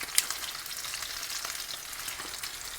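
Mackerel masala fish fry sizzling steadily in a pan, a continuous close hiss of hot oil with a brief sharper spatter near the start and no talk over it.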